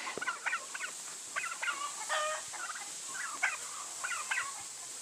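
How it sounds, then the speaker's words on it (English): Several turkeys gobble in quick rattling bursts, fairly close, calling one after another over faint background hiss. "Yes, turkey birds."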